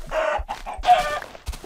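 Chicken in Minecraft, a few close, loud clucks and squawks in quick succession, heard alone.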